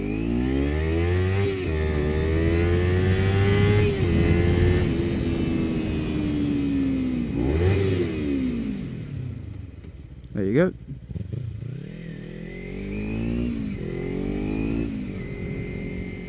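A Kawasaki Ninja 300 with an Akrapovič slip-on exhaust revs hard several times, rising and falling in pitch up close, then drops toward idle; a brief spoken phrase comes partway through.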